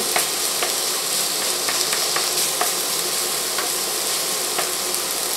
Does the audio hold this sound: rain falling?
no